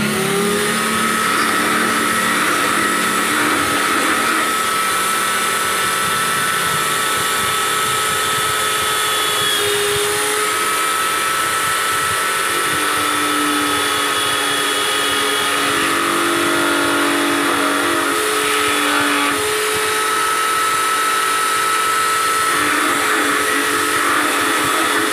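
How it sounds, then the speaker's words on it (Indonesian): A power drill whines continuously for a long stretch, its pitch wavering slightly as it bores into and trims the inside of a coconut shell ring, with no talking. "ini untuk dalamnya ini kita rapikan ya menggunakan bor"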